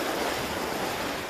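Strong wind and breaking surf roar together on a blustery British beach, a dense, steady wash of noise with gusts buffeting the microphone throughout.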